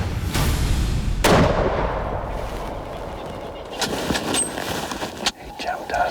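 A rifle shot fired at a leopard in a tree during a hunt in Tanzania gives one loud, sharp report early on, followed by rustling and outdoor background noise as someone talks.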